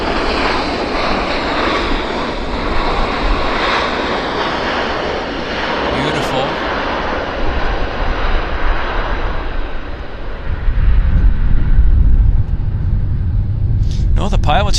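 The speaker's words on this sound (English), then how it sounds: "Serious reverse thrust." Jet airliner engines roar in reverse thrust just after landing at Vancouver Airport. The noise is a loud, broad, continuous rush that swells into a deeper rumble toward the end, heard from outside the aircraft with no talk.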